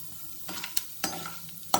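Fenugreek seeds sizzle in hot oil in a pan while being stirred for a curry-leaf garlic kuzhambu, a steady close fry broken by several sharp scraping strokes of the spoon.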